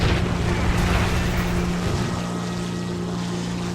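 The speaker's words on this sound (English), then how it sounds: "I power through with those engines and climb away from the battlescape." Twin P-38 aircraft engines climbing in the War Thunder video game, a steady dense drone with a low hum that holds throughout, alone and loud.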